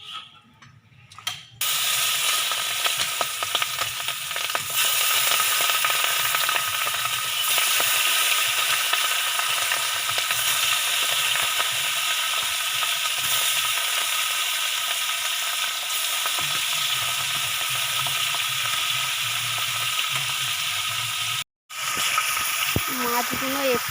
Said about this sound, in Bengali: তেল গরম হয়ে গেছে, এবার মাছ দিয়ে দেবে ভাজার জন্য